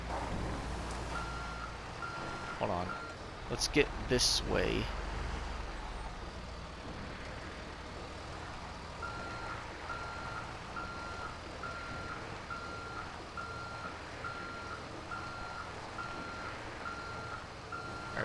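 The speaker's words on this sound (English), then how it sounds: "reverse the trailer into the drop-off and detach it to complete the delivery" Steady, regular reversing beeps from a truck backing up a trailer in GTA V, loud and close, repeating over a low engine and road rumble, with someone briefly talking near the start.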